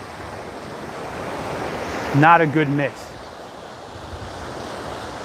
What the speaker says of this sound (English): Kind of low waves today.